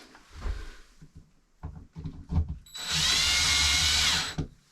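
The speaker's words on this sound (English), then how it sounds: "put the drill on the setting number 1 so it doesn't tighten very much" Cordless power drill driving small white screws into a ceiling light fixture in a 2014 Tiffin Allegro Bus motorhome: close handling clicks and taps, then one steady high whirring burst of about a second and a half.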